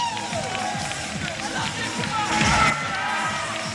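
A wrestling crowd at a UWA Rampage show cheers and stamps for Phil Powers. The noise is a dense, continuous roar with rhythmic thumping, and it swells briefly near the end under an announcer's voice.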